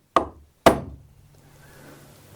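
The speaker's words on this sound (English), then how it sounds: "Just put my drift in the middle and give it a sharp tap." A maul striking a steel drift to drive a pin out of a wooden block, two sharp solid knocks about half a second apart, close and loud, each fading quickly into a quiet low hum.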